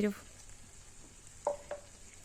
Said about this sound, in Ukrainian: Закипає, буквально одну хвилинку прокипить все.